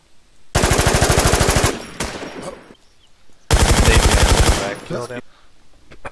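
A P90 fires in the online shooter game Infestation in two long, loud bursts of rapid automatic gunfire, each lasting over a second with brief echoing tails, close and dominant, and players speak briefly between them.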